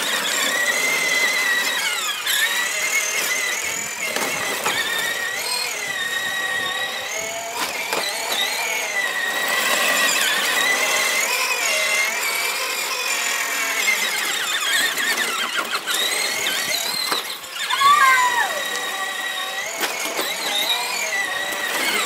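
A homemade 18-volt mini turbo runs during a demo with a loud, sustained high-pitched electric whine and squeal whose pitch shifts and wavers throughout, with a brief surge near the end.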